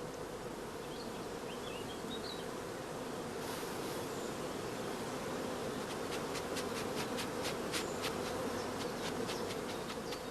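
Honeybees hum steadily around a breeder queen's colony at the hive, a dense continuous drone close by with no voices.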